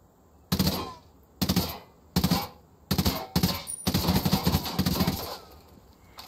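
Bursts of automatic gunfire in the video game Ghost Recon Wildlands: several short, sharp volleys a second or so apart, growing into a denser, longer stretch of shooting before trailing off.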